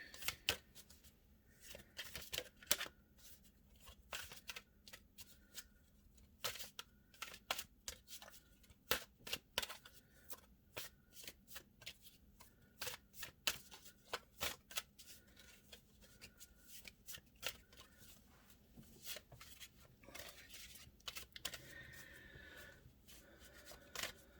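Tarot cards are shuffled by hand up close, with rapid crisp riffling bursts and slaps repeating irregularly throughout, at a quiet level with no talking.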